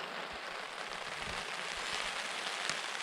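Rain patters steadily on a tent during a winter solstice wild camp, a soft, even hiss with scattered faint drops, heard from inside.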